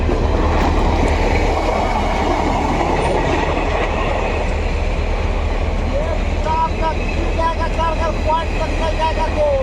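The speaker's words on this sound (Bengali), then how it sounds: "সে পয়েন্ট পজিশন থেকে চলে যাচ্ছে একদম ট্রেন" A train rumbles loudly and steadily over the points near Ahiron rail bridge, with rhythmic wheel clatter and faint squeals building toward the end.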